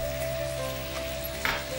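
Julienned ginger sizzling on a hot stone, a brief steady close fry with a low hum underneath and a single light tap, with no voices.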